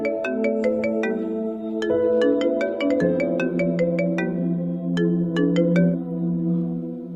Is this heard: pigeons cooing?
no